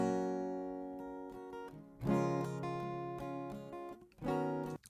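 Two acoustic guitar tracks, one miked and one DI, panned left and right and blended, play strummed chords that ring out, pause briefly, then return with fresh strums.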